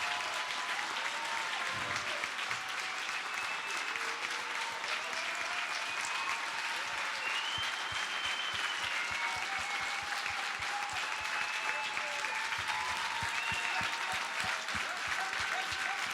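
An audience at a company leaders' seminar applauds continuously, a dense steady clatter of many clapping hands lasting throughout at moderate level, with a few scattered louder claps and no speech.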